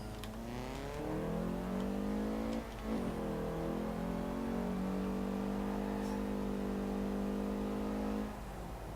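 A Hillman Imp widebody driven in Forza Horizon 4, its engine note rising and falling through gear shifts, loud and steady for most of the stretch with a brief dip mid-run.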